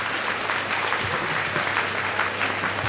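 A crowd claps in sustained, dense applause, steady and fairly loud from start to finish.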